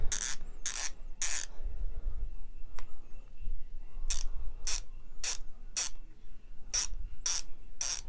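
An Icon 1/2 in flex head torque wrench ratchet clicks close up in short bursts of two or three quick sharp ticks separated by pauses, with faint handling noise between them and no talk.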